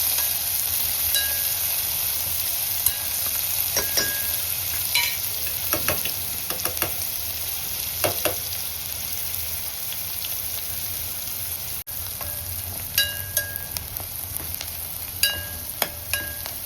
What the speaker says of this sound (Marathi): कांदा छान परतून घ्यायचा अगदी लाल रंगावर।